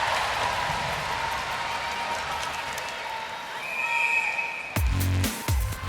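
A hockey crowd at a PWHL finals game between Minnesota and Boston keeps up a continuous roar of cheering and applause after a save, with a few sharper knocks near the end.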